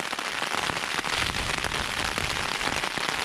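Heavy rain drums steadily on a Lanshan 1 tent in the Simonside Hills of Northumberland, a dense, close, continuous patter with no voices.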